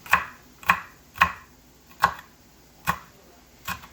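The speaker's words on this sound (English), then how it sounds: "I like to dice these because I don't want big chunks in it." A knife dices hot peppers on a cutting board for homemade strawberry jam. About six sharp, crisp chops fall at an even, unhurried pace, close and clear with no talk.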